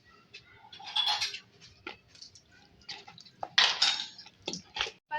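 Chicken being mixed with red chilli powder and salt in a pot, with scattered clinks and scraping of a utensil against metal in irregular bursts, fairly close and moderately loud.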